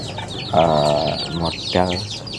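Chickens on a poultry farm cluck loudly and close by in two drawn-out calls, with faint chatter and other birds in the background.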